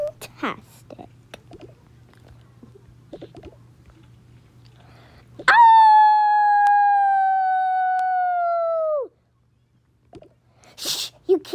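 A long, sustained howl in the game Toca Boca, with a rising onset and steady tone lasting a few seconds, loud and close, preceded and followed by quiet murmuring.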